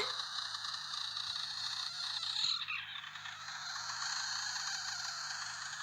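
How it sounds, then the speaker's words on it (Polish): A frog gives a continuous rasping croak, rattling and mechanical like a broken diesel engine, steady and fairly close across the whole stretch. "Żaba taki dźwięk wydaje? Jak zepsuty silnik diesla."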